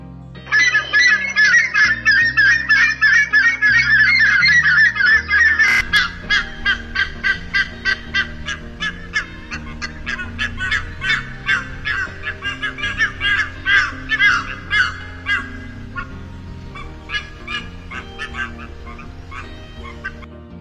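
A red-naped ibis gives a series of harsh, nasal calls, first as a dense, loud screeching burst, then as rhythmic repeated honking notes that gradually fade, close by and with no voices.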